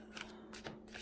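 A deck of oracle cards being shuffled and handled, quick crisp riffles and rustles in short bursts over about a second, close and soft.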